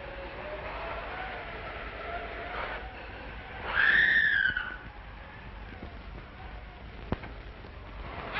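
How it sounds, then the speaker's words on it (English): A woman's scream in a 1935 horror-mystery film, a shrill, wavering cry that swells for about a second midway through, over a hissy old soundtrack with a faint tone before it. "Who's screaming?"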